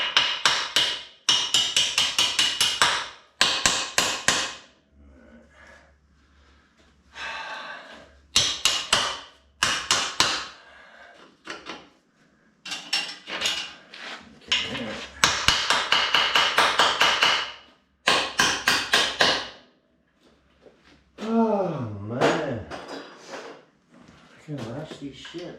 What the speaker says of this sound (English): A little hammer, so you can just